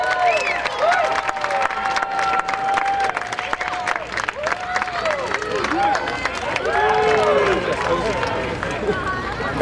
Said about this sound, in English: Big hand of applause for Erin English.